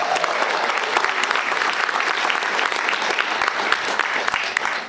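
Conference audience applauding at a teachers' climate justice keynote, a full, steady wash of clapping from many hands throughout.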